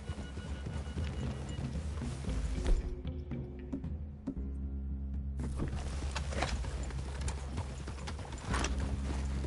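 Horses clip-clop steadily along a forest path in the Western video game Red Dead Redemption 2, hooves close and continuous, with a whinny rising above the footfalls near the end.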